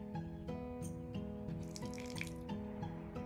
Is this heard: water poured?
yes